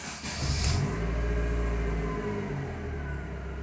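A car engine catches and runs at a loud, steady idle close by, with a brief rise in revs early on and no voices over it.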